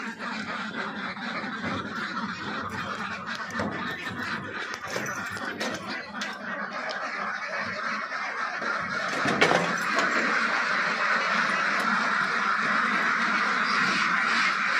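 A flock of egg-laying ducks on a duck farm quacks and squeals continuously, many birds close by, with faint background noise and no clear talk.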